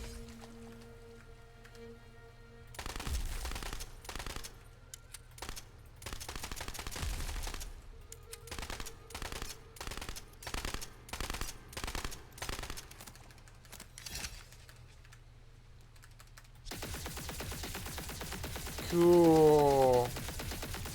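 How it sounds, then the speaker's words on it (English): An ice shotgun fires in a video game, with a run of loud, rhythmic blasts repeating at a steady pace for several seconds before giving way to a different, hissing effect at the end. "It's like an ice shotgun."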